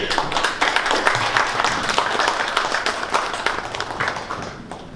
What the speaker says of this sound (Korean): 윤여갑 원장님을 박수로 맞이해 주시기 바랍니다